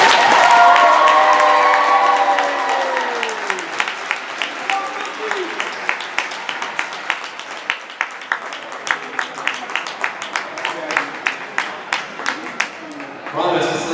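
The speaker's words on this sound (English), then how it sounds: "Let's give one more round of applause for our seniors." A crowd at a high school senior night applauds and cheers for the graduating seniors, loud at first, then thinning into scattered individual claps with a few shouts.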